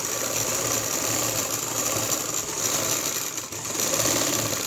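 A sewing machine stitches the seam of a lined kurti, a steady close mechanical whir and chatter that runs without a break, with a brief dip near the end.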